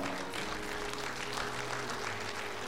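Steady applause from a concert audience at a charity concert supporting disabled children in the Mirny district, a dense, continuous clapping wash with no voices over it.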